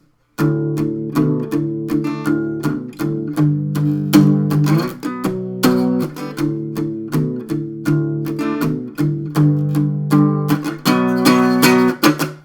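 Rhythmic acoustic guitar strumming plays a song verse alone, with repeated down-up chord strokes and short muted pauses between phrases.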